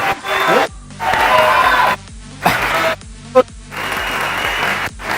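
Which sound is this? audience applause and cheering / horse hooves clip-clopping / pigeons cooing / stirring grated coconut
audience applause and cheering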